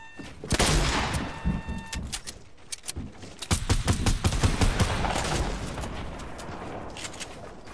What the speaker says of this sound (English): They're getting shot by other people.